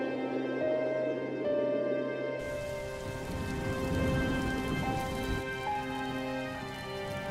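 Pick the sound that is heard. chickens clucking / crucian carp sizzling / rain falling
rain falling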